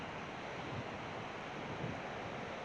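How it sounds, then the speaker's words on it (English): Ocean surf rolls onto the shore at Fenwick Island, Delaware, a steady broadband wash with two soft swells of breaking waves, heard alone at a moderate distance. "As powerful as those waves are"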